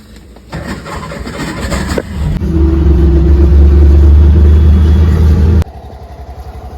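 An auto rickshaw's small engine drones loud and close during a ride in heavy rain, its revs climbing into a sustained roar before dropping off sharply near the end.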